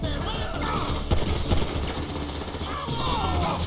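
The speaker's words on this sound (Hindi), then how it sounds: "अरे ये कहाँ से चल रही है गोलियां" Bursts of rapid gunfire in the video game GTA 5 crackle continuously over a dense, noisy backdrop, with a few louder shots standing out.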